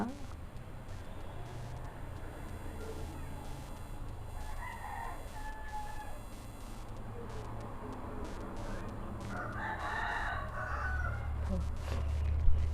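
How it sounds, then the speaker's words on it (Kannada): Backyard chickens cluck and a rooster crows amid steady background noise, with a louder crow near the end and a voice speaking over parts of it. "ನಮ್ಮನೆ ಬಾಕ್ಲಲ್ಲಿ ನೋಡಿ ಕೋಳಿ ಯಾವ ಥರ ಇದೆ ಅಂತ ಕಾಣ್ತಾ ಇದೆಯಾ"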